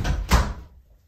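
A door pulled shut by a newly installed spring hinge, one sharp close-range thud as it closes, then a brief fading rattle.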